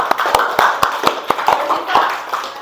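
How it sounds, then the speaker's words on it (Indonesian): Applause from an audience at an indoor training session, a short burst of rhythmic clapping with sharp, evenly spaced claps standing out, close and lively. "Terima kasih, beri aplaus"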